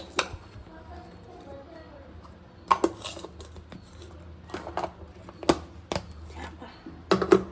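Lunch box containers are shut with their lids, giving sparse clicks and light clatters between quieter stretches, with a denser burst of snapping toward the end.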